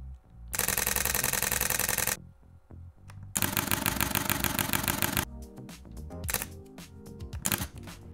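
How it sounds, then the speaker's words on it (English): Fujifilm X-T30 and X-T4 mirrorless camera shutters fire in rapid bursts, two long continuous rattles of clicks followed by a series of slower, single and clustered shutter clicks, close and crisp. "I'll quickly play you an example of the difference between the X-T30 shutter and the X-T4"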